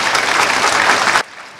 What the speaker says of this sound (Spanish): merecen realmente el aplauso de todos nosotros